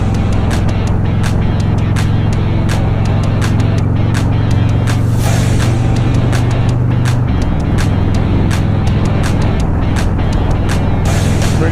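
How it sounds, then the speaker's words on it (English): A car drives along a bumpy road in Tijuana, Mexico, a steady low engine and road rumble running throughout with frequent short knocks and jolts from the uneven surface, fairly close and continuous. "Pretty bumpy road here."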